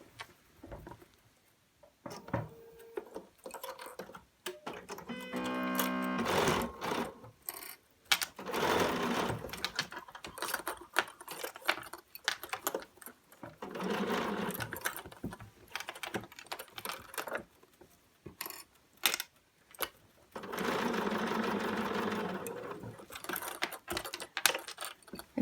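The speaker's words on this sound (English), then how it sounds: "I'm going to start sewing on this side of the binding" A sewing machine stitches rayon binding in bursts of rapid mechanical whirring, starting and stopping several times, with quiet handling pauses between runs and no talk.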